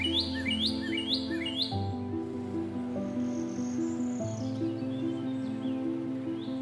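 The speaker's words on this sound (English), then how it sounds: "song of the Amazonian motmot resonates in the early morning or at dusk, bringing peace and harmony to the dense forest" An Amazonian motmot sings in dense rainforest at dawn or dusk, with a few rising chirps early on over a steady bed of droning insect and forest sound.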